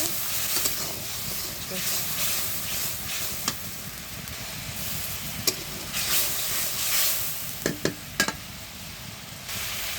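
Turmeric, chili and salt frying in oil with garlic paste, a steady sizzle running throughout, broken by scraping stirs and a few sharp utensil clinks against the pan.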